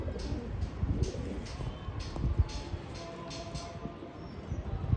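Pigeons at a Pune flying-pigeon loft coo low and steady against soft rustling and a repeated high twittering, fairly quiet and without speech.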